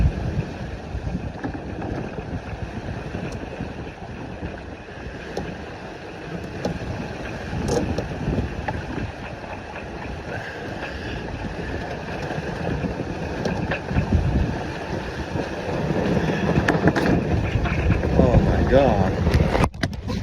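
Sailboat heeling through strong, gusty wind, with continuous wind roar and rushing water noise building louder toward the end, a voice exclaiming briefly over it.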